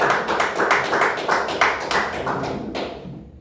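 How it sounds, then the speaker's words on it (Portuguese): A church congregation claps hands together in a steady, fast rhythm, dense repeated claps filling the room at close range, with no talking over them. "Vamos receber o servo do Senhor com as palmas bem fortes para Jesus."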